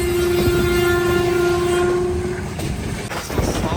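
A short three-coach Thall Express passenger train on the Rawalpindi to Attock line in Pakistan rolls along loudly with a steady rumble, its horn holding one long sustained tone for about two and a half seconds before cutting off.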